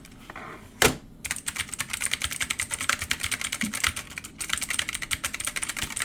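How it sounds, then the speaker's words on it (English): Typing on an RGB backlit mini mechanical keyboard: a dense, rapid stream of loud, close clicky keystrokes, briefly pausing once, with no talk over it. "They're loud keys because they are mechanical."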